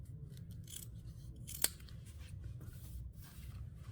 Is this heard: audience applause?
no